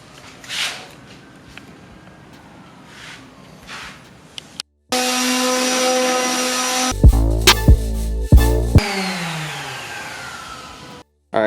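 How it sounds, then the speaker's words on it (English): Sanding down the corner of a DIY car side splitter for a BRZ/86/FRS with 120-grit paper: after quieter background noise, a loud, steady, droning grind starts midway and continues, with shifts in pitch and intensity. "Now we're gonna go ahead and sand down the corner."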